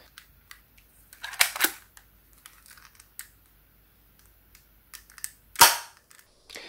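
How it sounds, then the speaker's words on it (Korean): A Korean-made Monica spring air-cocking pistol fires with two sharp, close snaps a few seconds apart, surrounded by faint mechanical clicks and handling noises. "그럼 발사를 해보겠습니다."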